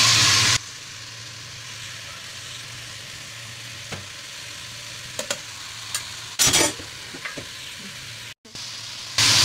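Fish pieces, hilsa for a bottle-gourd curry, being stir-fried in spiced masala in a pan, giving a steady close sizzle with occasional stirring scrapes and clinks.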